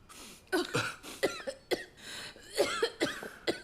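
Several people cough in turn, a series of harsh, close bursts spread across a few seconds, with a short throat-clearing sound between them and no talking.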